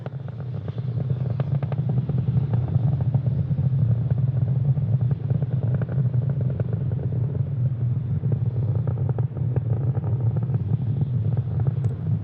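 SpaceX Falcon 9 rocket engines during ascent near supersonic speed, a continuous deep rumbling roar with crackling texture, steady and loud throughout, no talking.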